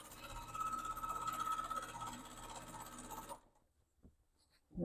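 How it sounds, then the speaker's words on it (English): A home sewing machine runs steadily, stitching forward and backward along fabric with a mechanical whirring rattle, then stops, leaving quiet with a few faint handling clicks. "it would help if I turn my sewing machine on"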